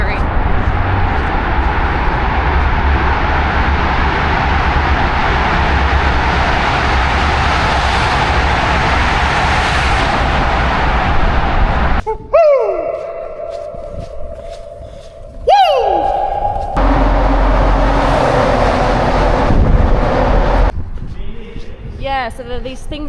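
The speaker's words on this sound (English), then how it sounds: "So one car driving past, you can hear it from so far away, and it's so loud and scary." A car drives past inside a road tunnel, its loud echoing roar filling the space for about twelve seconds before dropping away, followed by shorter sweeping and clattering sounds.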